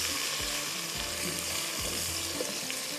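Chopped onions fry in a non-stick pan for a beef khara masala, with a steady close sizzle and soft clattering stirs throughout.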